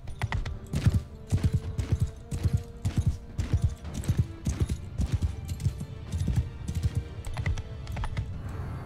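Steady, rapid clip-clopping of horses' hooves in Mount and Blade II: Bannerlord, many overlapping hits in a quick uneven rhythm, fairly close and continuous throughout.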